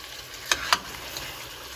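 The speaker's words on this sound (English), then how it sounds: "I'm going to mix it again well" Spoon stirring tomato puree into chicken masala with ginger garlic paste in a hot pan, two short scraping strokes over a faint steady sizzle, close and quiet.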